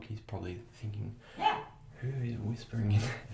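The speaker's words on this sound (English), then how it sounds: "Sorry about my dog" A pet dog barks a few times in the background of a home bathroom during a shaving session, short sharp barks mixed under a man's close, quiet speech.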